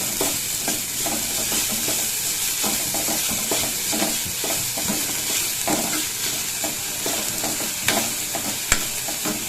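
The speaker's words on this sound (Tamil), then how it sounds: "முருங்கைக்கீரையை வந்து நான் லேசாக போட்டு அதில் வதக்கிக்கிறேன்." Drumstick leaves being sautéed in a pan for soup: a constant, close sizzle of frying, broken by repeated scraping and stirring strokes against the pan at an uneven rhythm.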